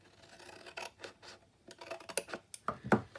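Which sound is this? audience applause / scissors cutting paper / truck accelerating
scissors cutting paper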